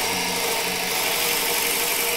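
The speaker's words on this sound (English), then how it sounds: "I'll drill this in, I'll get it deep enough that I can drop that light in there" Continuous broadband whir of a drill boring into wood spinning on a lathe, steady and fairly loud with a hissing high-end texture and no pauses, with no voices over it.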